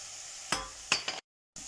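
Garlic is added to a pan of mushrooms that have cooked down by about half, and a steady close sizzle of frying runs through the clip. Two stirring scrapes rise out of it, then the sound cuts out briefly and returns.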